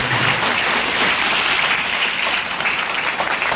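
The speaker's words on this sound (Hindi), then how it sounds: "इनके लिए तालियां बजाइए" A large audience at an RCM Business event claps in a dense, sustained burst of applause, loud and steady throughout with no voices standing out.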